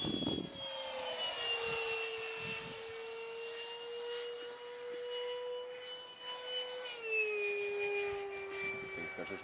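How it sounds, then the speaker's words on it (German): A jet aircraft identified as an F-22 Raptor roars past with a sustained high whine that slowly drops in pitch, loud and continuous with no talk over it. "Ist ja auch ein Jet."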